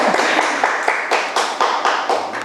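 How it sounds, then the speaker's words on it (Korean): A church class audience claps together for a student's answer, a dense run of close hand claps with regular swells over about two seconds, no talk. "박수 한번 가겠습니다"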